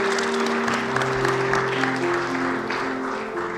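An audience at a school sports awards ceremony in Gyeongbuk claps steadily for honored coaches and athletes, the applause running continuously beneath sustained background music.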